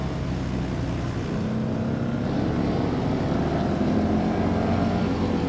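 Bagger motorcycles race down the straight at the Bagger Racing League Las Vegas finals, a dense steady engine roar from the pack heard at a distance, constant and unbroken.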